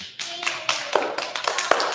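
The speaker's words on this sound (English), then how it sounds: "I do want to give Austin and Kyra a round of applause, please" Classroom of students and families giving a short round of applause for two students, a small group's uneven clapping with distinct sharp hand claps, close and fairly loud.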